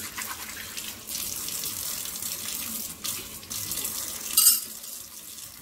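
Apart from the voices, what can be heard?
water from a tap rinsing off a plant pot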